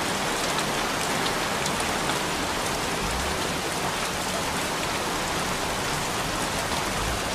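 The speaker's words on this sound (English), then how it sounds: "Damn rain. Soaking wet." Steady, dense rain pours continuously in a video game, a loud even hiss of drops striking surfaces with no pauses or voices.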